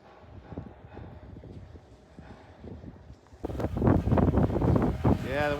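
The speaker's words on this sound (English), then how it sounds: "Yeah, the wind's really letting up" Wind gusting outdoors in Vermont in late winter, a steady broadband rush that grows louder and rougher partway through, with a voice briefly audible underneath.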